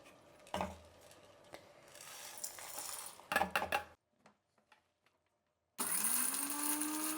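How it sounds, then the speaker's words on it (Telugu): Spices pounded into powder for pepper rasam, a few dull thuds and scraping knocks in irregular bursts, with a quiet gap before a louder steady noise resumes. "రసానికి ఇది పొడి కొట్టేద్దాము."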